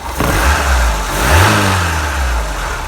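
An Opel Manta Berlinetta engine with a Weber carburettor revs up and settles, a loud close rumble rising and falling over a few seconds.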